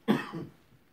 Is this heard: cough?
yes